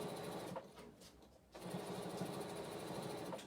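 A home sewing machine runs steadily up close on a quilt, its rapid mechanical hum dipping briefly in the middle before resuming at full speed.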